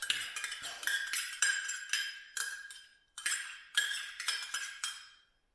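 A metal utensil scrapes leftover yogurt from a container, producing a series of about nine short clinking scrapes in an uneven rhythm, close and fairly quiet, with no voices.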